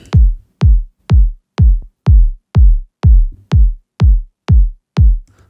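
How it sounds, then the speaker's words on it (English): A punchy kick drum hits eleven times at a steady, even pace, each thump deep, loud and short, with nothing else playing. "Nice and punchy kick."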